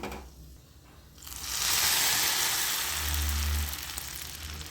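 Semiya and dry fruits sizzle as they fry in a pan, a soft bubbling hiss that rises sharply after a second and stays steady and close, with a low rumble underneath.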